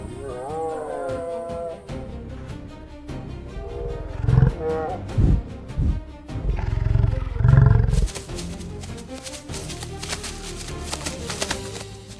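Lions roar and snarl while fighting buffalo in the African wild: a series of deep, rough roars and growls, loud and close, followed by a burst of crashing, scuffling commotion.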